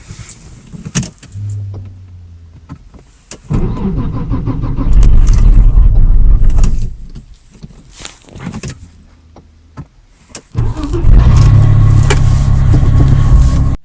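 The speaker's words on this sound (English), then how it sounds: "Let's try to start the engine now." A 1990s Audi A6 with a fault causing poor starting and high fuel use: the starter cranks once without the engine catching, then a second crank brings it to a loud, steady idle, with a few clicks and clunks in between.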